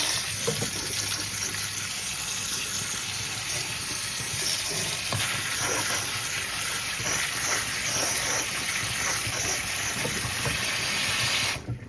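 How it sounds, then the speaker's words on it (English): Cold water runs steadily from a tap in a loud, continuous rush for several seconds before cutting off. "Turn on some cold water"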